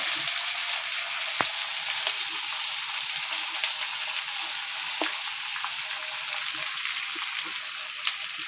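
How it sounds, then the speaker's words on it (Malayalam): Garlic, ginger, tomato and green chilli sizzle in hot oil for biryani, a continuous close hiss with occasional soft pops and light stirring scrapes, steady throughout with no voices. "തക്കാളി പച്ചമുളക് എല്ലാം കൂടി ഇട്ട് കൊടുക്കാം വെളുത്തുള്ളി ഇഞ്ചി മൂത്ത് വന്നിട്ടുണ്ട്"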